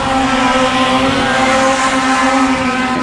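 Mini stock race cars racing at The Dirt Track at Genesee: loud, continuous engine roar with a steady droning tone, close and sustained throughout, no voices audible over it.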